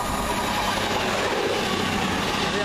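A Cross Country service from Edinburgh to Plymouth passes close by, a steady loud rumble of rail wagons with rolling wheel noise and faint clickety-clack throughout, no talking.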